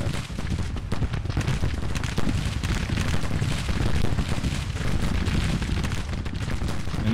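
Dense, continuous volleys of Mississippi rifle musket fire on a Civil War battlefield in a strategy game, booming and overlapping with no pauses, loud and rumbling throughout with no voices.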